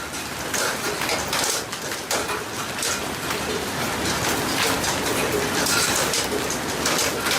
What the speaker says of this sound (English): hail is huge.